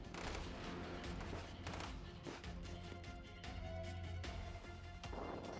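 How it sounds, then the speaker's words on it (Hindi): Gunfire in southern Lebanon, dense and continuous, with machine-gun bursts and sharp cracks overlapping throughout against a loud, crowded background with no clear voices. "कुछ जगहों पर मशीन गनों से फायरिंग की आवाज भी सुनाई दी"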